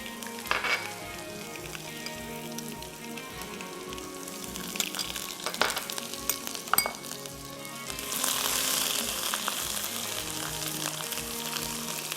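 Garlic ginger paste sizzles in a hot pan for a bhindi paneer dish, a steady close frying hiss with occasional clinks and scrapes of a spoon stirring, swelling louder near the end.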